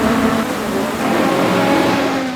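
Formula 1 race cars at the Bahrain Grand Prix: a loud, continuous engine roar with steady high-pitched whine, close and sustained, no speech audible.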